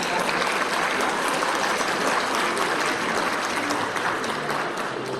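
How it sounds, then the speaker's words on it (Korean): Audience applause at the opening of the Korea government procurement expo, a broad steady wash of clapping from a sizable crowd, fairly even and moderately loud throughout, with no speech over it. "박수 부탁드리겠습니다."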